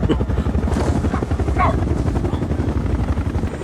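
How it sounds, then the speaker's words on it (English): Loud, steady helicopter rotor and engine roar from a TV drama fills the whole stretch, with a brief higher whine in the middle and no clear voices. "Oh no, the helicopter doesn't work anymore."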